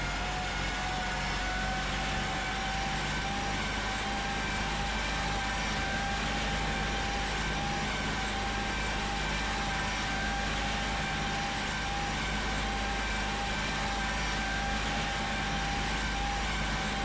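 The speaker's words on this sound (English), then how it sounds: "This is a 307 horsepower tractor." A 307-horsepower John Deere tractor engine in the Farming Simulator 2015 game runs at a steady idle, a constant low rumble with a faint tonal whine, unchanging and moderately quiet, with no talk.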